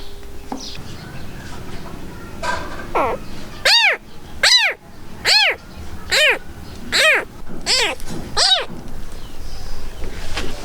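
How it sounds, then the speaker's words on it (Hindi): A small kitten mews indoors at home, giving about seven high, rising-and-falling cries at a steady pace. The cries are close and clear over a faint background hum. "ये बिल्ली का बच्चा कल बिल्ली हमारे घर छोड़ गई थी"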